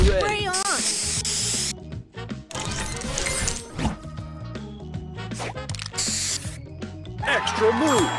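Short bursts of spray hiss recur between game announcer callouts and bright musical stings in a Mighty Mushrooms heist score rally video game, the spray blasts loud and close.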